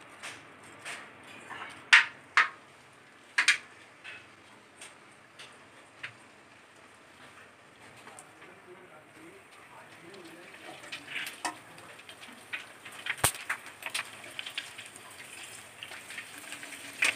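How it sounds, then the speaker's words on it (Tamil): Puri frying in hot oil for pani puri gives a soft, steady sizzling crackle. A few sharp clinks come early, and the frying grows busier and louder in the second half. "நம்ம பூரியை வந்து பொரிக்க போகிறோம்."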